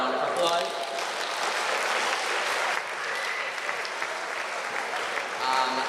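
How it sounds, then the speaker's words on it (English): A school hall audience applauds the organizer of a cyber bullying panel discussion at a college, steady dense clapping throughout, with a few voices faintly mixed in. "So can we give Ms. Tipol a round of applause?"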